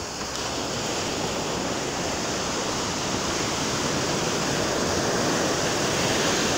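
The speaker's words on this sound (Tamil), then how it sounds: "நாம் நடந்து போகும்போது நமது சுமைகளையெல்லாம் கழுவி விட்டு செல்கிறது இந்த கடல் அலைகள்" Steady, unbroken wash of sea waves rolling onto a beach, a dense broadband surf roar that holds at an even, fairly loud level throughout with no voices.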